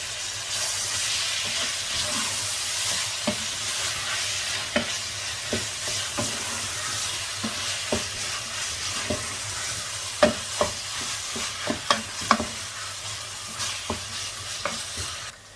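Bolognese sauce with tomato puree stirred in a pan: a constant sizzle and hiss with a run of sharp spoon-against-pan knocks and scrapes that grow more frequent toward the end, close and with no talk.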